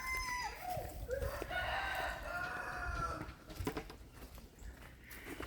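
Backyard chickens at a homestead hatchery give a mix of clucks and a rooster's crow, fairly close and continuous over faint outdoor background.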